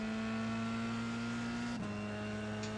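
Steady engine note of a JKR F3 race car in iRacing on the Nurburgring, a sustained tone that dips briefly as the car turns in before settling again, continuous and close with no talk.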